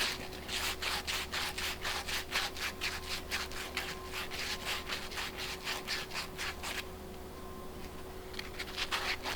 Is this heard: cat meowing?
no